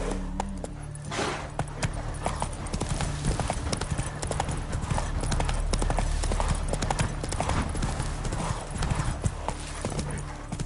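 The horse Roach galloping in the Witcher 3 video game, a steady, loud stream of rapid clip-clop hoofbeats under game music throughout.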